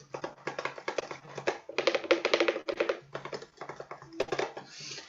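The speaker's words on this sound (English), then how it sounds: "Also the left hand clicks," Accordion left-hand bass buttons clicking in quick clustered bursts with short pauses, close and dry, fairly quiet, with no voices.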